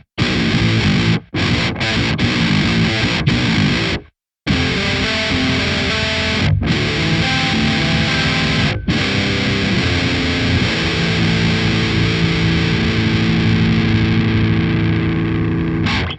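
Distorted electric guitar played through a transposer pitch-shifting effect in the AmpHub suite, sustained chords with a few brief silent gaps, loud and close.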